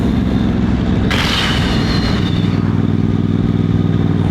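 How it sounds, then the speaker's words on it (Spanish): Moto Morini X-CAPE 1200 motorcycle with a short-stroke 1200 cc V-twin, ridden with a loud, steady, throbbing engine rumble and heavy wind roar right at the microphone, rising briefly in a burst of noise. "el motor es chino, carrera corta, 1200, bicilíndrico en V"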